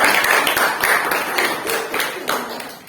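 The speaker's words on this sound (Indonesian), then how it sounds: "tepuk tangan untuk kita semua terlebih dahulu" Audience applause closing a classroom workshop on differentiated learning, a brief burst of many hands clapping at steady loudness, with scattered individual claps standing out.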